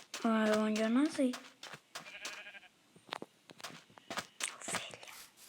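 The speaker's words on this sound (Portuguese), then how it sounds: "Ovelha." A sheep in Minecraft gives a clear wavering bleat up close, followed by scattered footsteps and small in-game noises.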